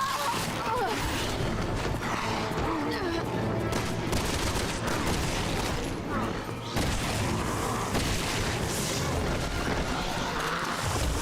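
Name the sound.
shotgun gunfire in the video game Resident Evil 6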